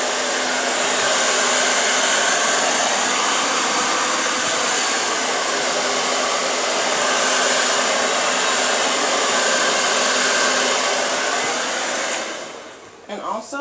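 A hair dryer roars steadily and loudly for over twelve seconds while blow drying hair with a brush, its constant whooshing airflow cutting off near the end with a few brief handling sounds.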